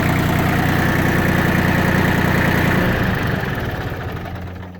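A used Yanmar FX18 compact tractor's diesel engine idles loud and close with a steady low rumble, then settles and fades slightly toward the end, with no voices.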